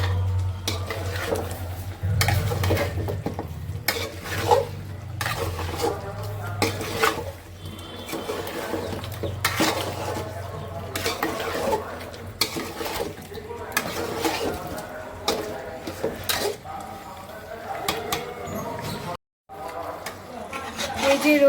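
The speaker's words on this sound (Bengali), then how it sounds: "তারপরে একটু লাল লাল করে ভেজে নিচ্ছি" Meat fries with roast spices in a pan while being stirred; a ladle scrapes and knocks in a busy repeated rhythm over a low hum, with voices talking at times.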